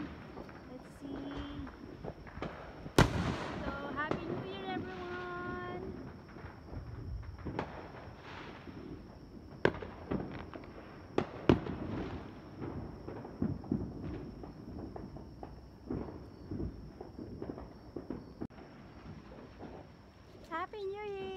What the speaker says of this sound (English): At marami pong mga fireworks.